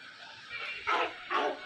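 A couple of small, high-pitched yips of a Minecraft puppy barking, two short bursts close together over a faint background hum.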